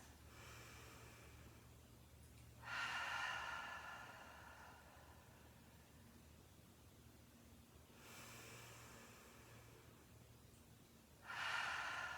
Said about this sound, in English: Just trying to completely fill the lungs and then completely empty the lungs with each breath.